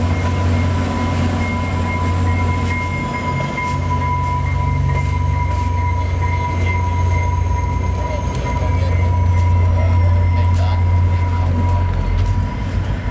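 A train locomotive switches to turn around, its heavy steady rumble and rolling wagons carrying on loud and close throughout, with a sustained tonal whine and occasional clanks and squeals layered over the drone.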